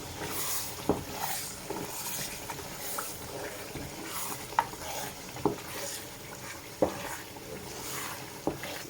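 A spoon stirring jollof rice tomato sauce in a pot, with soft scraping and sizzling throughout and a few sharp clinks of utensil against metal at irregular intervals.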